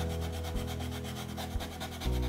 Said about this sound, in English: I can sand off some of the blue